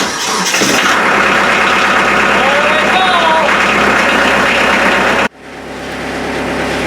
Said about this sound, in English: That tractor is pretty loud right now.